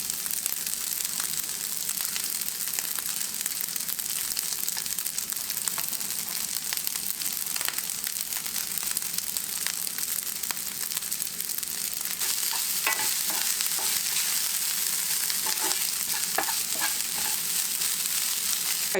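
Rice and crumbled bacon fry in a pan for Tex-Mex bacon fried rice, a dense continuous sizzle held close and even for the whole stretch, with light crackling and stirring ticks building toward the end.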